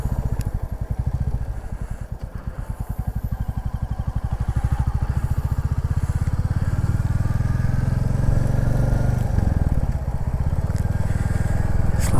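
A motorcycle engine approaches and passes along a quiet rural road near a farmhouse, its low rumble steady and fairly close, with a faint voice briefly underneath.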